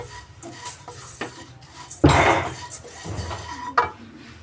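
Flattened rice (atukulu) dry-roasting in a pan over a low flame, with scraping and rustling as the flakes are stirred and a louder burst of clatter partway through.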